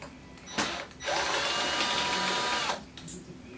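A power screwdriver whirs steadily for about two seconds, backing a short screw out of a Panasonic RX-FW38 stereo under repair, with brief mechanical bursts before and after and faint speech nearby.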